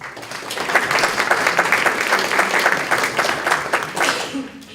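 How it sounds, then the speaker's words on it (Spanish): Audience applause at an evening cultural event in Ayacucho, a loud, dense stretch of clapping that holds steady for several seconds before easing slightly. "Aplausos para él, por favor."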